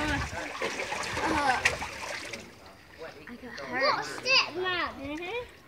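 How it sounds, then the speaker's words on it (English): Children shriek and play around water with splashing at a backyard birthday gathering, lively overlapping kids' voices and bursts of splashes throughout, with adults talking nearby. "You got a splashed Jodie"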